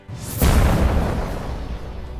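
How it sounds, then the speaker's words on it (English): Multi-melter arrays firing at blight launchers in a Warhammer 40K tank battle, a single loud booming blast that hits abruptly and rolls off into a long, fading rumble. "unleashing each multi-melter array into each blight launcher, as well as the quad launcher"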